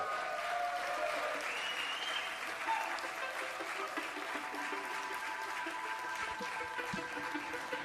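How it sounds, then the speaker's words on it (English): Sustained applause from a large audience, steady clapping filling the room for several seconds with a faint crowd murmur underneath. "Thanks for the great applause, by the way, y'all."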